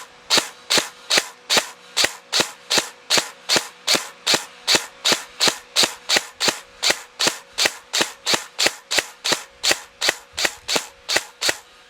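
A Tokyo Marui M4 airsoft gun fed by a twin drum hi-cap magazine fires dry, with no BBs: a long, steady series of about thirty sharp, loud, evenly spaced snapping shots, close and alone.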